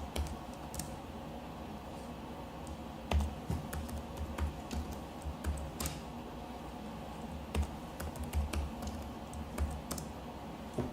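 Password being typed on a computer keyboard, a run of quiet close key clicks in uneven bursts over a low steady room hum, no voices.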